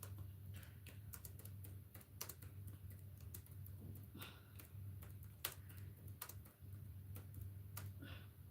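Fingers tap steadily on a computer keyboard, an irregular patter of light clicks with a few louder strikes, faint and close over a quiet low hum, with no one speaking.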